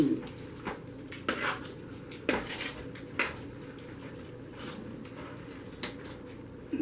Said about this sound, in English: Mix our onions up good in our potato cakes